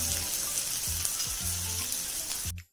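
Vegetables with carrot frying in a pan on a medium flame, a steady close sizzle with several short bursts of stirring, cutting off abruptly at the end.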